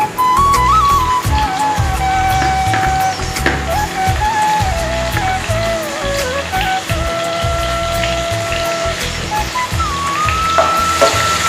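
Tomatoes drop onto fried onions in a pan and sizzle loudly and close, a continuous crackling hiss with stirring scrapes and a faint tonal whine running underneath.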